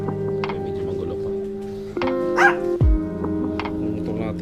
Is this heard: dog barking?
yes